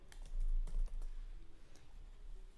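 Code typed on a computer keyboard, a quiet run of quick, uneven key clicks close by, with no talking.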